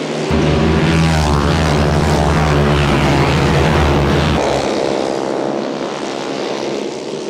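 Chase Williams' flathead limited modified race car roars past on the speedway during warmup at Triple T Raceway, a loud, buzzing engine note that holds strong and then shifts pitch and fades slightly as it moves away.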